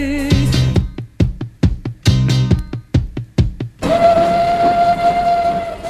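A steam train sound effect in a Romanian radio comedy: a rhythmic series of loud chuffs and clanks with ringing metallic tones, followed by a sustained steam whistle over hissing.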